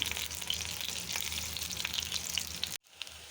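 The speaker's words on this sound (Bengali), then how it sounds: "এটা কফি ভাজা হচ্ছে, বেগুনি আর কফি ভাজা।" Cauliflower and aubergine fritters fry in oil with a steady, dense crackling sizzle and scattered sharp pops, close and continuous, then the sound cuts out and resumes more faintly.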